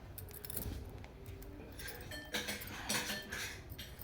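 Spoons, a knife and other new kitchen utensils are handled together, producing scattered metallic clinks and light jangles over a few seconds with no talk.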